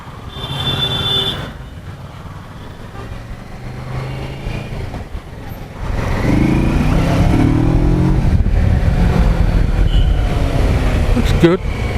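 A Kawasaki Versys 650 or Z650 on a test ride in first gear, its engine droning and then revving louder and rising in pitch, heard close under wind noise while someone talks over it.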